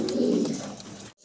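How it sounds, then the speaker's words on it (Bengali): A pair of racer pigeons makes a short, low, throaty coo that is close and clear, ending abruptly, with no voices. "এক জোড়া রেসার কবুতর।"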